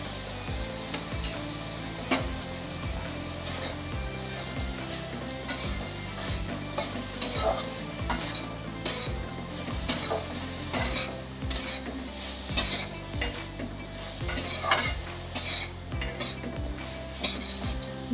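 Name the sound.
stirring turmeric, cumin, ginger and chilli paste frying in pan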